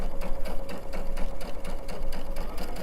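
A sewing machine stitches and back stitches the fabric of an elephant stuffed animal, a close, fast, rhythmic mechanical chatter broken by brief pauses.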